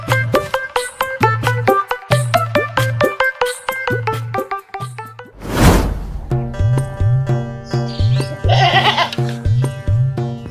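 A goat bleats repeatedly in quick, rhythmic bursts, loud and close, its wavering cries breaking briefly for a sharp whooshing rustle before the bleating resumes.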